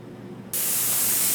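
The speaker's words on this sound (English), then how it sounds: "And then we're going to spray the activator on it and let it liquefy." Activator sprayed onto hydrographic carbon fibre film for a custom gun wrap: a faint hiss under low background rumble, then a sudden, steady, loud spray burst that continues to the end.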